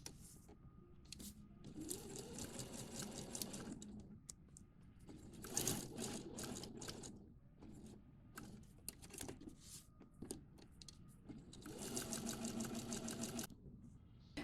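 An electronic sewing machine stitches through fabric in several long whirring bursts, the first running about four seconds, with quieter handling noises and pauses between runs. It sounds close and moderately loud.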